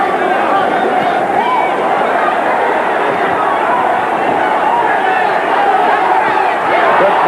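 A big crowd at a welterweight boxing bout in the Civic Arena in Phoenix roars in a loud, steady wash of cheering and babble that holds throughout.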